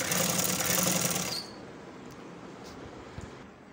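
A sewing machine stitches elastic onto a hijab in a brief whirring burst that stops after a second or so, leaving quiet room tone with a few faint clicks.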